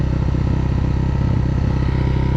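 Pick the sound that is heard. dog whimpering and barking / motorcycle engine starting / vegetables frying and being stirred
motorcycle engine starting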